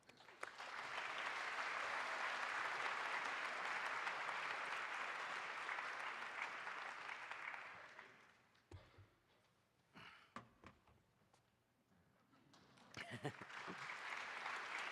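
Audience applause welcoming Keiji Ashizawa at a community talk, a sustained, dense clapping from a full room that holds for several seconds, thins into scattered claps, then swells again briefly.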